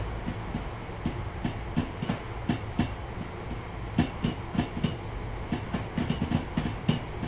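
Train rolling into a station in the Train Sim World 4 game on a London commuter run, with steady rail rumble and repeated clickety-clack wheel beats over the joints, moderately loud and without talk.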